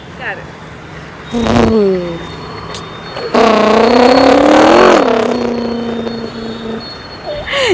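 At an Onam celebration in Kayamkulam, a man vocally mimics a car driving past with a short engine hum, then a longer, louder droning rev that swells and fades away.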